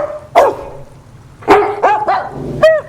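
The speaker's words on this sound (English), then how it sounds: "Back to the dogs barking." A dog barks in three separate bursts, the last a sharp high yip, with short pauses between them; close and loud.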